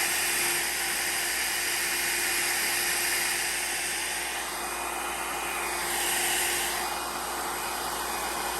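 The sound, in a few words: heat dryer blowing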